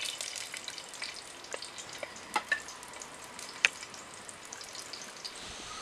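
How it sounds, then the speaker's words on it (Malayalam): A fish kizhi bundle fries in hot coconut oil, giving a quiet, steady sizzle with scattered sharp pops and crackles, heard close with no voices. "വെളിച്ചെണ്ണ നന്നായിട്ട് ചൂടായതിന് ശേഷം നമ്മൾ നേരത്തെ എടുത്ത് വെച്ച കിഴി അതിൻ്റെ ഉള്ളിലേക്ക്"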